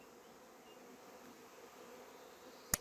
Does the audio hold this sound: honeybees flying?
yes